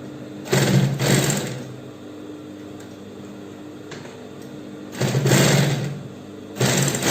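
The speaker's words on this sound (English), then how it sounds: "You're going to top stitch, sew a straight line on it like this" A sewing machine top-stitches a straight line on an Ankara fabric backpack, running in three loud whirring bursts with quiet pauses between them, close and without talk.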